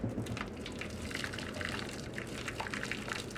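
Hot water from a kettle streaming into a roasting pan, a faint, continuous gushing pour with light splashing that runs unbroken for several seconds, no voices.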